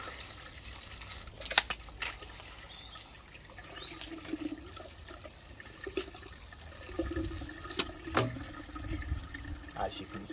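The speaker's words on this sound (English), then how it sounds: "We'll just give it a hose out." Water from a hose splashing over a wet-and-dry vacuum's sponge filter, a steady rushing spray with knocks and handling noises, fairly quiet and close, with speech faintly present.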